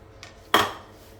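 Mutton liver pieces drop into a metal cooking pot with a single close, sharp clatter and brief sizzle, preceded by a faint clink, then quiet.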